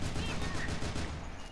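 Rapid bursts of gunfire from the shooter game Loadout, dense repeated shots in quick rhythm, fairly close and continuous, with a voice faintly talking underneath.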